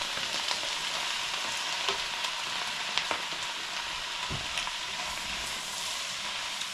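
Mushrooms and pork crackle and sizzle in a hot pan for pork fried rice, a continuous close frying hiss with scattered pops and occasional utensil scrapes.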